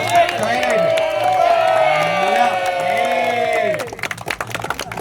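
A sustained tonal sound holds for several seconds, then a crowd breaks into scattered clapping toward the end.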